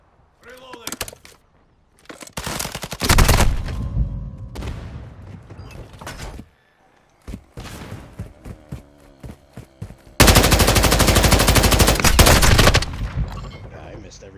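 Loud Warzone 2 gunfire: brief bursts early on, then a dense sustained automatic stream near the end, with gaps of quieter game noise and a voice between.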